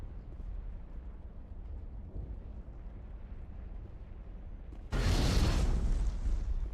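Grenade blast in the video game Mass Effect, a low rumbling ambience broken by a sudden loud, close explosion that roars and slowly decays, with no voices.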